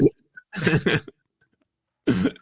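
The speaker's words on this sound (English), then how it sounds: "I got a cough. I got a cough." Two quick, harsh coughs close by, followed after a pause by another single cough.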